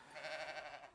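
A single faint sheep bleat on a farm in Greece, a wavering nasal cry lasting about a second, heard at a distance with no other sounds.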